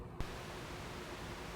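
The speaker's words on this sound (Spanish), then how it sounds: "Y este sería el ruido rosa." Steady, low-heavy pink noise hiss from a simple homemade noise-generator circuit built on a breadboard, switching on abruptly after a brief quieter moment and then holding constant.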